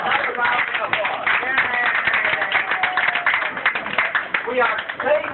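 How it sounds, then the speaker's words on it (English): Continuous crowd applause at Griffith Observatory during a winter solstice event, with rapid overlapping claps held at an even level and voices talking over them for the whole stretch. "Give that another round of applause."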